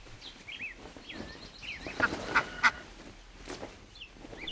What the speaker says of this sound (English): Look, old man, what a beautiful duck!